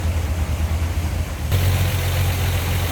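A 1949 Chevrolet pickup's inline-six engine idles steadily with a low, even rumble that grows slightly louder and fuller partway through, as if heard more directly with the hood open.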